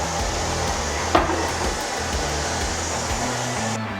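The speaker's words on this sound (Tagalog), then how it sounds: "meron na kaming vacuum" A vacuum cleaner runs nearby with a steady, loud whooshing drone and a high whine, with a single small knock partway through.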